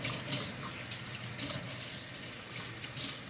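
Tap water runs steadily into a sink while an oily sponge is rinsed during reel-skin stencil cleanup, a constant close splashing gush with no voices.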